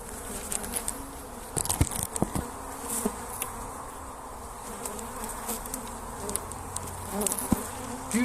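Honey bees buzz around hives in an apiary in early spring, a continuous close droning hum with individual insects passing near, plus small scattered taps and rustles.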